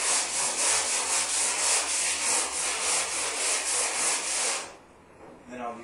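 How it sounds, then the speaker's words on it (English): Coarse 80-grit sandpaper rubs back and forth across the painted steel hood of a 1959 Chevy pickup in steady, close strokes, stopping abruptly near the end. "I'll use 80 grit to do my sanding with"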